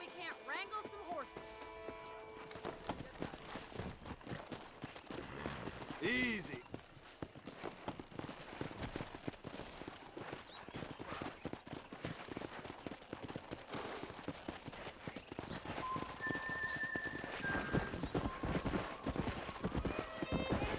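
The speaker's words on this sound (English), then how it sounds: "Let's see if we can't wrangle some horses." In the Red Dead Redemption game, horses clip-clop along at a walk with a sharp whinny partway through, hooves steady and close, while someone speaks briefly and ambient ranch sounds continue.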